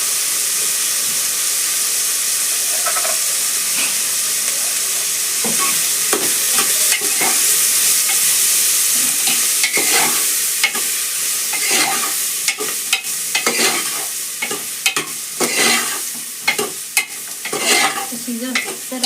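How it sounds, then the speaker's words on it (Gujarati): Vegetables with tomato and turmeric fry loudly in a pan for an undhiyu-style Gujarati dish, a steady close sizzle with repeated scraping, stirring strokes growing more frequent toward the end. "પછી જો સરસ હલાવી નાખીએ."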